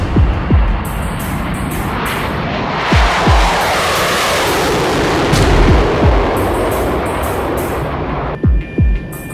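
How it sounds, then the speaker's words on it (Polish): An EF-111 Spark-Vark jet aircraft roars on full afterburner during takeoff: a loud, broad, sustained jet blast with repeated deep thudding pulses, heavy and close. "Spark-Warg startuje na pełnym dopalaczu."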